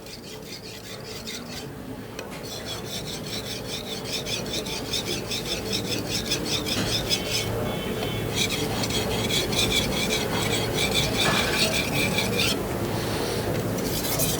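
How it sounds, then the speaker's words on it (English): Steady rasping scrape of a kitchen knife being sharpened on a fine 8000 grit whetstone, repeated strokes blending into a continuous close gritty hiss. "So I'm going to go to the 8000 stone."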